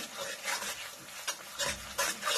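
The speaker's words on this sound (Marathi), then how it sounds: "आता हे मिश्रण एकसारखं हलवत राहायचं आहे." Veg Manchurian mixture being stirred in a pan, soft repeated scraping strokes with a faint sizzle underneath, close and quiet, rising in a few brief louder sweeps.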